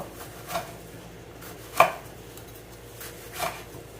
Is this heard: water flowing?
no